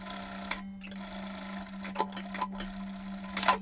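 A sewing machine stitches seams on a surgical hospital uniform over a constant motor hum, with short bursts of needle clatter and a few louder knocks and rustles of fabric nearby.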